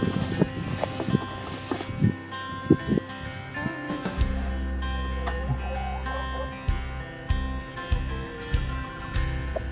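Hens on a farm cluck in short, scattered bursts at close range during morning chores, mixed with shuffling footsteps and light handling noises over a low background hum.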